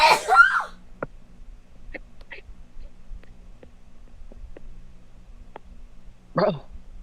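One sharp, close sneeze bursts out at the start, followed by near silence with faint small noises and a brief voice near the end.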